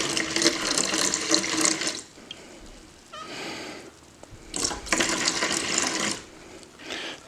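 Pomegranate juice mead poured back into a jug or mixing vessel, a continuous splashing pour in two long bursts with a quieter gap and a short final trickle, close and fairly loud.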